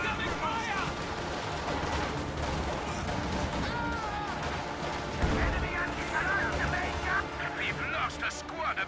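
Anti-tank gun fire in a WWII strategy video game, heard as dense overlapping cannon and small-arms bursts amid constant battlefield noise, with a heavier blast partway through and a voice talking over it.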